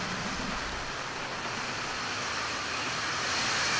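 A steady, dense roar of an Atlas rocket's RD-180 engine during launch fills the whole clip, broad and unbroken, growing slightly louder toward the end.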